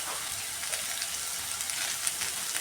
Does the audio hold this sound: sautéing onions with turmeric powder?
yes